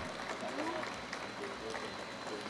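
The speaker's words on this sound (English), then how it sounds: "Another round of applause, please" Audience applause at a design reveal ceremony, steady dense clapping from a crowd throughout, with voices talking underneath.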